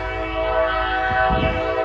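A loud, sustained train horn blares with rumbling rail noise underneath, close and steady throughout.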